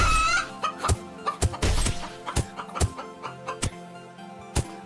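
A chicken in a video game clucks briefly at the start, followed by a series of sharp percussive hits and ticks spaced irregularly, with no voices.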